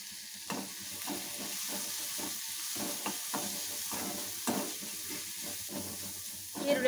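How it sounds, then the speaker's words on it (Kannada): Onion frying in a pan with salt, steady sizzle punctuated by scraping stirs and utensil knocks, close and moderately loud, with no voices. "ಈರುಳ್ಳಿಗೆ ಫ್ರೈ ಆಗಲಿ, ಆಮೇಲೆ ನೋಡುವ"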